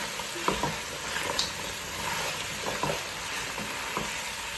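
Curry oxtail browns in a pot with a steady close sizzle, soft stirring clinks and scrapes breaking through the constant frying hiss.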